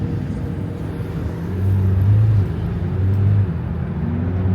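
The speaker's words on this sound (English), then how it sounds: "this car drives really good in fully automatic mode. It's so smooth." A car in fully automatic mode, during a drive around Miami, cruises with a smooth, steady low engine hum that swells gently twice, heard from inside the cabin with no talking.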